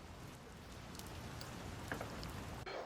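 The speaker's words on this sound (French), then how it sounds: "Donc ça, c'est l'ambiance pluie" Rain ambience track from a film sound mix, a faint, steady hiss of falling rain with scattered soft drop ticks and no voices.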